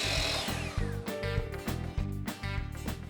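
A power tool cuts panels into strips for a laundry room table's apron and braces, sounding as a loud, close motor whine broken into repeated bursts as each pass runs, with no talk.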